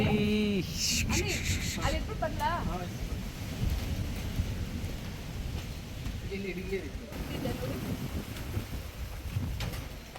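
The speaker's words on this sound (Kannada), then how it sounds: "ಫುಲ್ಲು ಗಾಳಿ." Strong wind gusting across a farmhouse plantation, a steady broadband rush throughout with louder buffeting near the start, while people talk intermittently over it.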